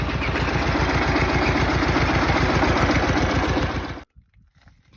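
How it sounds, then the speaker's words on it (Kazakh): A tractor engine runs close by on a winter water-hauling trip, giving a steady, rapid low thumping pulse for about four seconds before it cuts off abruptly into near silence. "Трактор жүріп тұр."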